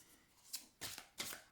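A deck of oracle cards is shuffled and cut in a few quick, crisp riffling bursts, faint and close, with short pauses between each pass.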